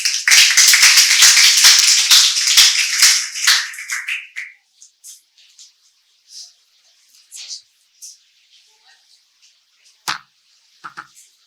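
An audience at a drug discovery conference breaks into a burst of loud applause for about four seconds, then it thins to a few scattered claps and taps before fading out.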